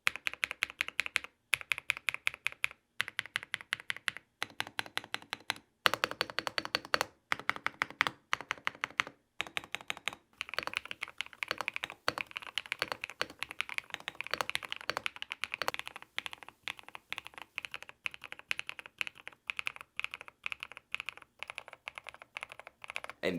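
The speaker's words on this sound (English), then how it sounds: "This sounds like a custom keyboard." Someone types on an Epomaker Shadow X mechanical keyboard, producing rapid bursts of crisp, close keystroke clacks separated by short pauses, with no talking.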